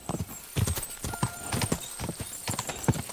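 Horse hooves galloping in the medieval video game Kingdom Come Deliverance 2, a rapid, rhythmic clip-clop of repeated hoof beats, close and prominent, with faint game music behind.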